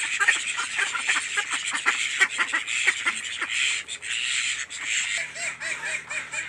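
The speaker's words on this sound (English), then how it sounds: "Look at the duckies, y'all." A group of ducks quacking close by, a busy overlapping chorus of loud nasal calls that continues steadily, with a low hum entering near the end.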